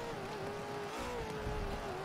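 A 1000HP limo in Forza Motorsport 7 on the Nordschleife, its engine droning steadily with a slight rise in pitch under throttle, moderately loud and continuous with no voices.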